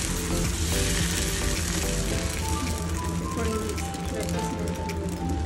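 Dosa batter spread over a hot nonstick pan sizzles loudly and continuously with a dense crackle, while a person talks over it throughout.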